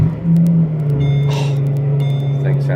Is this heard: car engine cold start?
yes